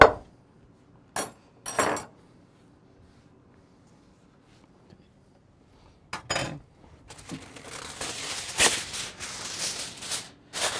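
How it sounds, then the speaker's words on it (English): Aluminum foil is pulled and pressed over a baking dish of stuffed mini pumpkins: a few short, close crinkles, then a pause, then dense sustained crackling and rustling, with no talk. "We need to cover this with some aluminum foil"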